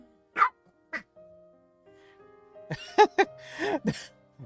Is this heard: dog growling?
yes